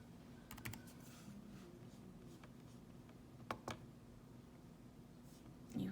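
Calculator keys are pressed in a few quick bursts of soft plastic clicks, faint and close against a quiet room, with no speech.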